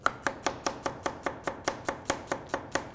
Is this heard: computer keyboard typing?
no